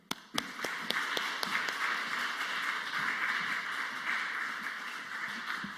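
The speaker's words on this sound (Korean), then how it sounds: "강사 목사님 나오실 때 우리 뜨거운 박수로 영접하도록 하겠습니다" Church congregation at a Wednesday worship service in Bucheon welcoming a guest pastor with steady, moderately distant applause, a few sharper individual claps at the start blending into continuous clapping with a faint tone underneath.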